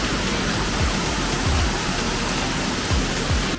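Rushing water of Kathu Waterfall in Phuket, Thailand, a steady broadband roar filling the scene close by, with a few low thumps breaking through the continuous wash.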